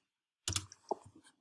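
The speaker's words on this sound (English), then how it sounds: "so now I'm typing" Brief burst of typing on a computer keyboard during a Google Meet session, a handful of close, quiet clicks and taps in quick succession after a short silence.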